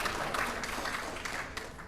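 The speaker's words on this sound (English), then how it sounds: "You are still clapping." Lecture audience clapping steadily in a hall, a soft, continuous patter of many hands heard from a distance with no voices over it.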